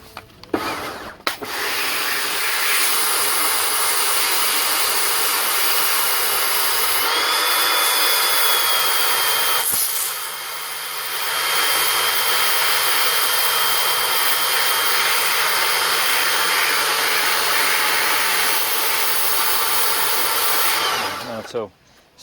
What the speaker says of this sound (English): So either you need a more powerful jet washer or a stronger product.